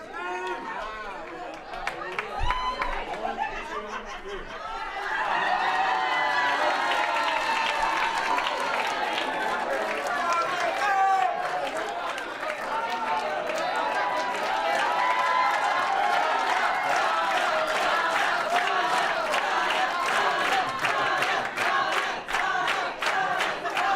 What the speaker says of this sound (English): Keep cheering on your winners.